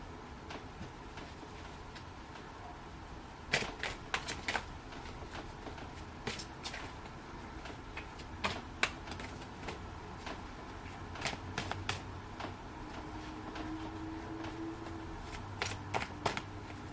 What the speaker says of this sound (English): we're going to pull some tarot cards